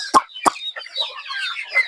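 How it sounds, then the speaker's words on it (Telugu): Farm chickens clucking close by, two sharp squawks followed by a run of softer warbling clucks and chirps, with no talking. "ఇవన్నీ మా కోళ్ళు ఇంకా సగం చెట్లలో ఉన్నాయి"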